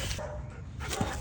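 A dog bites and tugs at a cap indoors, giving a short, close bark or yelp that lasts about a second.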